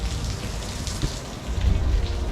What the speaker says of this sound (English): You'll see even Whiskey's getting freaked out by the rain